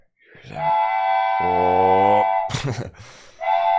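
A sustained train whistle sound effect sounds loudly and alone. Its pitched horn tone holds for about two seconds, then breaks off in a burst of noise and a second whistle blast, with a brief spoken exclamation.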